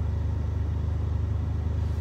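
A Suzuki Cappuccino rumbles along from inside the cabin, a low, steady engine drone with a faint pulsing beat and no talk.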